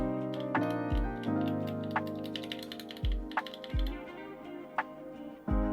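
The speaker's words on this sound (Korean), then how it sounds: "블랙 다이아몬드 7호의 타건음 들려드릴게요." Keystrokes on a BlackDiamond75 mechanical gaming keyboard with DR Rapid Ice switches, heard alone and close, tapping at an uneven pace with sharp clacks and a few deeper thocks.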